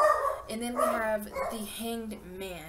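A pet dog yips and whimpers in short, high, wavering bursts close by, overlapping a person talking steadily indoors.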